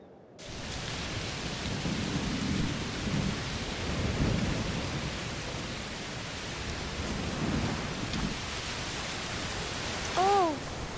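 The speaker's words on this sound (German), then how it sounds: "Oh, es regnet ganz schön doll." Heavy rain pours steadily in the video game A Plague Tale: Requiem, a dense, even hiss with low rumbles of thunder rolling beneath it throughout.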